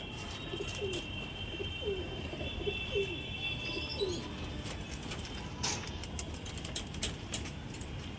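A restless mother pigeon of an old-line loft gives a run of short, repeated coos close by in the first half, followed by clattering and fluttering scuffles.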